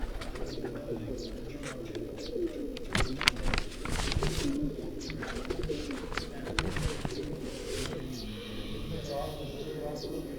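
Tiger-breed pigeons on a rooftop give soft, repeated cooing, while other birds chirp around them. Someone talks over the birds throughout.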